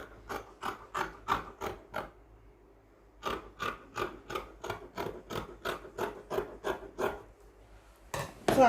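Scissors trimming the seam allowance on senator garment fabric, heard as a close run of crisp, evenly spaced snips in two bursts with a short pause between them.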